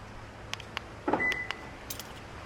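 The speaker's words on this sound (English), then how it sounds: "We'll shut the door and we'll lock the truck" A pickup truck door shuts with a single thump, followed by a few short lock chirps and clicks, close by and otherwise quiet.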